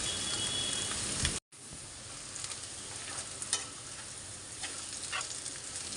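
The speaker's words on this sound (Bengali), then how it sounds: "এই পেঁয়াজটাকে আমি একটু লাল লাল করে ভেজে নেব অল্প একটু লবণ দিয়ে পেঁয়াজটাকে ভাজতে পারলে আর বেশি ভালো হবে" Onions fry in a pan with a little salt, giving a continuous close sizzle with stirring scrapes. It breaks off briefly into silence, then returns a little softer with occasional pops.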